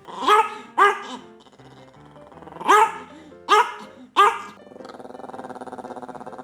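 A dog barks up close in five sharp, loud barks: two quick ones, a pause, then three more, followed by a low, drawn-out whine or growl.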